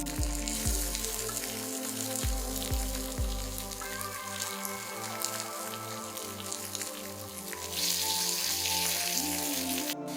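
Sabudana appam balls frying in oil in an appe mold over medium-low heat, a steady bubbling sizzle heard close up under background music, growing a little brighter toward the end.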